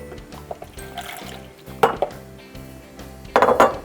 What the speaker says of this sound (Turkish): Diğer tarafta kalan sütümüzü bir karıştırma kabına boşaltıyoruz.